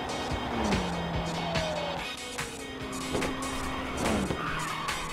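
A race car drifts through corners in Ridge Racers 2 on PS5, its tires skidding in long squealing sweeps over a steady engine drone, with several repeated slides across the stretch.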